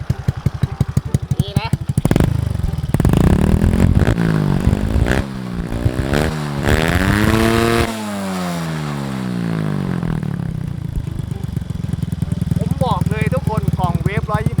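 A Honda Wave 100 motorcycle fitted with a Wave 125R ECU revs hard to the rev limiter again and again, climbing to a buzzing peak and dropping back, loud and close, with a voice talking at points.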